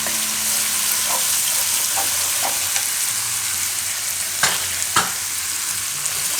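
Masala frying on a medium gas flame for dahi chhole, a steady broadband sizzle running throughout with a few sharp spoon clinks and stirring knocks, close and continuous, no talking.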